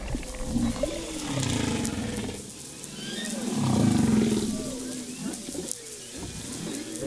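Whale vocal fry call recorded underwater off Madagascar, a low creaking, growling pulse with rough texture, swelling louder midway, surrounded by other tonal moans and whistles against steady ocean background noise.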